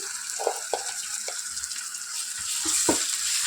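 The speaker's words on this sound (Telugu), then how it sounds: "పచ్చి వాసన పోయేంత వరకు బాగా ఫ్రై చేసుకోవాలి" Onions with ginger-garlic paste fry in a pan with a steady bright sizzle, broken by a handful of scraping stirs from a spoon, close and fairly loud with nobody speaking.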